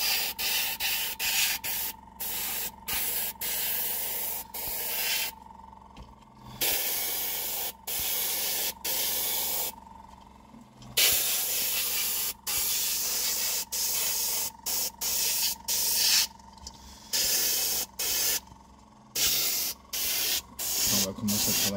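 Spray painting a flat model railway wagon: repeated short and longer bursts of airbrush or aerosol hiss, close and sharp, separated by brief silences in an irregular rhythm.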